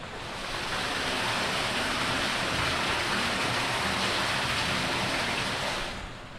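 Sewer water of buried Taddle Creek rushing beneath a street manhole cover at a four-way stop in Toronto: a loud, steady broadband roar that fades in and out, with no voices.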